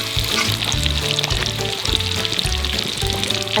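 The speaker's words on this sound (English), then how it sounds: "Two tablespoons of butter to the pan." Two tablespoons of butter sizzle in a pan over a campfire, a continuous loud hiss over a low rumbling background.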